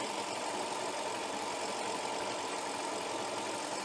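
COBRA Fortis 17E cylinder mower running across fine grass, a steady close whirring engine drone with the cutting reel, continuous and even with no voices.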